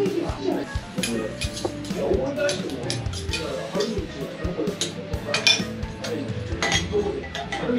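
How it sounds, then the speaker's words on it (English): Utensils clink against a bowl as an egg is stirred at a Ginza Steak wagyu restaurant in Tokyo, with repeated light metallic taps and scrapes over steady dining-room background noise and occasional voices. "So, stir the egg."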